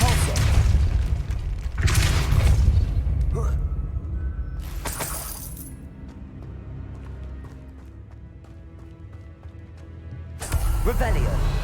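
The Depulso force spell in Hogwarts Legacy gameplay lets out several loud, shattering bursts with crashing debris, separated by a quieter stretch of game ambience.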